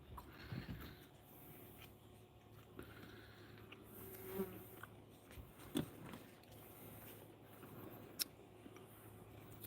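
Bees buzz faintly outdoors in a quiet setting, with soft intermittent buzzing passes and small ticks over low background hum.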